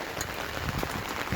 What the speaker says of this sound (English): just got a little increase in the rain, as you can probably hear on my umbrella underneath here